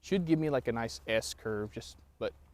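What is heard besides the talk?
No distinct noise like a dog, phone or traffic.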